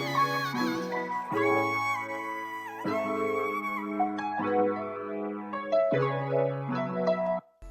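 A sampled vocal line sings sustained, gliding melodic phrases with a soulish R&B feel, bathed in ambience and reverb, the voice swelling and falling in several held notes over about eight seconds with no other talking.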